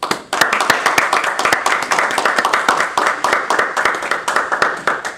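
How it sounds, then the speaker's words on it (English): A small audience at a university lecture gives a professor a round of applause as she comes to the podium, close, steady hand clapping that holds evenly for several seconds without voices. "I'd like you to give Professor Ranney, as she comes to the podium, a large applause."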